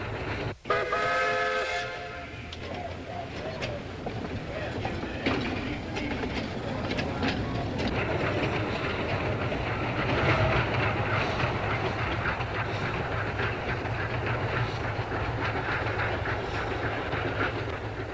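East Broad Top narrow-gauge train in Pennsylvania, 1987, rolling along the rails with steady loud rumble and rhythmic clickety-clack, a whistle sounding at the start and no talk.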